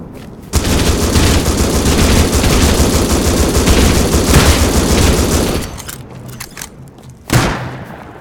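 Sustained heavy gunfire in a Rust 5v5 match, a dense loud barrage lasting several seconds before cutting off, then one more sharp blast.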